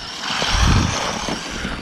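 A fast RC car with a brushed motor on a 2S battery races past, a buzzing mechanical whine that swells and fades over under two seconds, moderately loud, with no talk.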